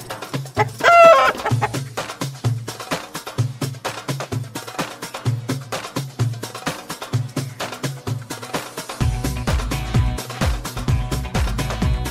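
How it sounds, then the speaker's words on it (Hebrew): A rooster crows once near the start over a rhythmic, beat-driven music track that keeps pulsing steadily afterward, with no talking. "תרנגול שר קוקו קוקו"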